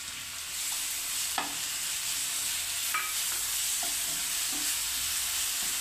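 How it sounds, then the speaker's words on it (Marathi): Capsicum stir-fried in a pan for masala pav, a soft, even hiss of frying with a few light clinks and scrapes of a spoon against the pan, fairly quiet and steady. "आता आपण शिमला मिरची घालू।"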